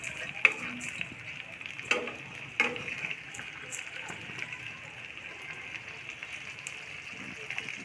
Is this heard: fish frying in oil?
yes